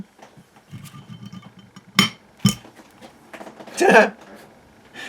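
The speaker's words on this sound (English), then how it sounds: "I'm just going to attempt to do this by eye with the punch" A hand punch is struck with a hammer to mark drilling holes by eye in a home metal workshop. Two sharp, close metallic taps land a moment apart, followed by a longer scraping clatter, with a voice talking around them.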